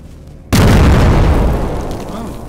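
A cannonball explodes in the video game Witch Hunt: after a quiet moment, a sudden loud boom hits and rolls into a long, slowly fading rumble.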